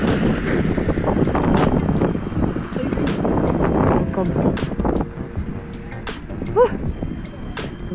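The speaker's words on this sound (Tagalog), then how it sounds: "Malakas ang hangin." Strong winter wind at a bus stop buffets the microphone with a loud, continuous rushing roar that eases slightly toward the end as a person talks over it.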